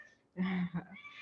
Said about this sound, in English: sorry about my cat, but he, I think, just needs attention also.